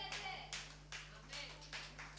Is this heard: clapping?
yes